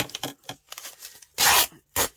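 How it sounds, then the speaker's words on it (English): Gelli print paper is ripped by hand for torn edges, a series of short crisp tearing strokes ending in two louder, longer rips, close and alone. "And ripping's the best so that we get a nice, we get some nice torn edges."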